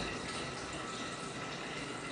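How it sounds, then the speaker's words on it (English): Homebrew wort poured from a height into a container, a dense continuous splashing rush of liquid that stays loud and steady throughout with no talking. "you want to try to pour your wort in here from as much height as possible"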